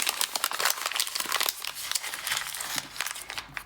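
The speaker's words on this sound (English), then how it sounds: "If it's not crumpled already, crumple it." A sheet of scrap paper is crumpled by hand, producing dense, continuous crinkling and crackling close up, with no talking.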